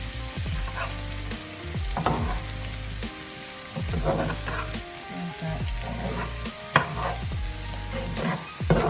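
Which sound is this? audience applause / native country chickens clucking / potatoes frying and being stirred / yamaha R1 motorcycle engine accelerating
potatoes frying and being stirred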